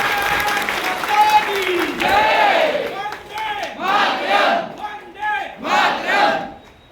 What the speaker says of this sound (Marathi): जोरदार टाळ्या झाल्या पाहिजे. टाळ्या थांबवायला पाहिजे.